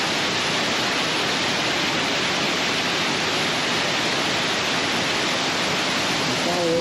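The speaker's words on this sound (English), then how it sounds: "That little stream into that big waterfall." Small stream pouring into a big waterfall in Shenandoah National Park, a steady, loud, full rushing roar that never lets up.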